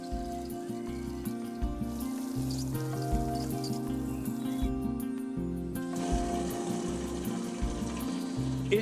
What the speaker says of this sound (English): Cover them over and water them well.